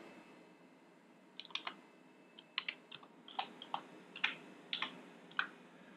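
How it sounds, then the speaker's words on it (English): Quiet keystrokes on a computer keyboard as a command is typed, irregular clusters of light clicks with short pauses between bursts, close and alone. "I'm quickly going to type in the command stop graphics"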